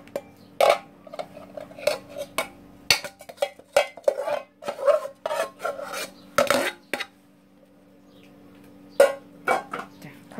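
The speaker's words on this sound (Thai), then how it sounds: "คนใส่กระมังก่อนเลย" A spoon scrapes and clanks against a metal basin while pork and bamboo shoots are stirred, giving irregular sharp metallic knocks and short rubbing strokes, close up, with brief pauses between strokes.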